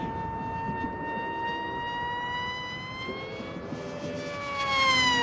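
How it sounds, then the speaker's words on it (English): The high, whining electric motor of a Durafly Rare Bear 680mm RC airplane drones steadily at full power on 6S during a power loop, its pitch slowly rising as it strains louder toward the end, heard from some distance. "Gonna come around and do a 6S power loop, ready? Full power."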